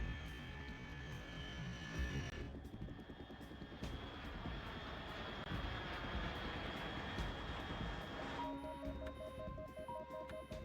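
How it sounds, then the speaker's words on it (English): A steady aircraft engine drones overhead in a Metal Gear Solid scene, a continuous loud roar with no talking, joined near the end by faint electronic tones. "Unidentified aircraft detected."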